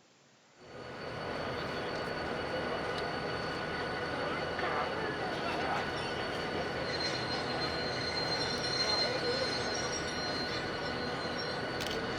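Heritage steam locomotive T342 with an S-type carriage at a railway open day near Seymour: after a brief quiet start, a steady rumbling train noise with faint squealing tones fills the rest, and a voice talks over it.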